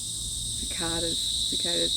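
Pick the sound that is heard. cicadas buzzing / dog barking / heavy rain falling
cicadas buzzing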